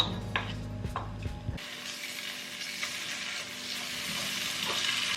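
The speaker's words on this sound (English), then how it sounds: "And now we're going to fry all of this." Kimchi frying in olive oil in a wok, a few clattering stirs at first, then a steady close sizzle that grows slightly louder, with no talk.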